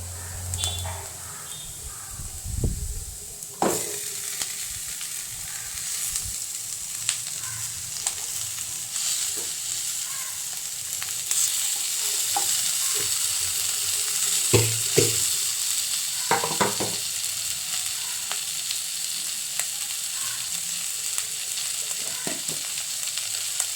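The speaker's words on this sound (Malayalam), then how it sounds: "നമുക്ക് ഈ കഷ്ണങ്ങളെല്ലാം അതിനകത്തേക്ക് ഇട്ട് കൊടുക്കാം" Fish pieces go into a pan of sizzling curry masala for fish curry, giving a loud, steady frying hiss throughout with occasional clinks and scrapes of stirring close by.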